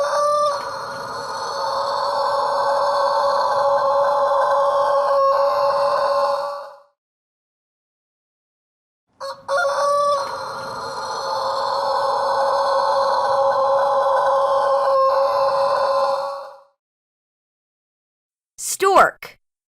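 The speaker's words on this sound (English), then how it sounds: "Rooster." A rooster crows loudly and close by, twice in a row, with each long drawn-out call lasting several seconds and separated by a pause of silence, followed by a brief squawk at the end.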